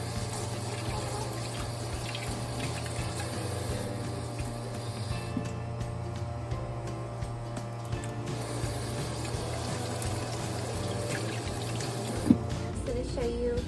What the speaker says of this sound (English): I'm going to start off with washing my hands